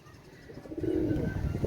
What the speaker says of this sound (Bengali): এই এইগুলো দেখেন একজোড়া ডবল ট্যাকের কবুতার